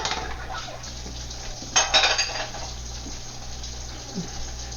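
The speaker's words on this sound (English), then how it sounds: "Then we're going to stir it up, make sure that the sauce thickens evenly." Sauce for a shrimp, scallop and tofu stir fry stirred in a pot, with a soft background hum and a brief burst of metallic utensil clatter against the pan partway through.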